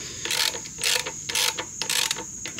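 Bolts on the carburetor cover of a Generac pressure washer being tightened with a ratchet, four bursts of quick clicking spaced evenly about half a second apart, close and fairly loud with no talking.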